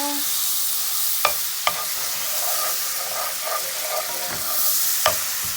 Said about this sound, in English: we're going to go ahead and add a half a stick of butter and let that melt down like so